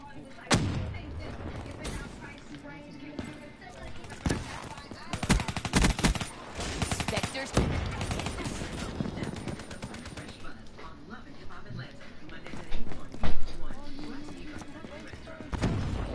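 Gunfire in Black Ops III, repeated shots and bursts of varying loudness mixed with game effects, with players talking over much of it.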